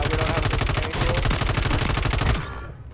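Sustained rapid gunfire from a Call of Duty match, a loud, dense stream of automatic shots that runs for most of the moment before cutting off abruptly near the end.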